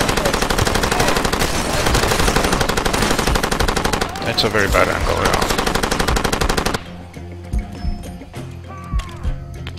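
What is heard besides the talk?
machine gun firing in the video game Far Cry 2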